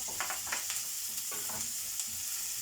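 Steady sizzle of salted onions frying in a pot, a continuous hiss with a few soft stirring scrapes, close by and unaccompanied by talk.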